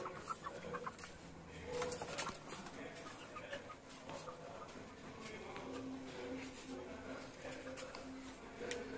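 A broiler farm holding over 2000 chicks, filled with dense overlapping peeping and chirping from the flock, a busy indoor chorus heard at moderate distance.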